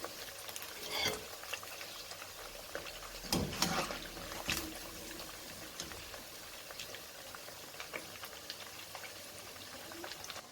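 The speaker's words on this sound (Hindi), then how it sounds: "पाँच मिनट हो गए बोटियों को फ्राई होते हुए" Surmai (kingfish) pieces fry in hot oil in a karahi, a soft, steady bubbling hiss with a few brighter crackles and spatters, fairly quiet and without speech.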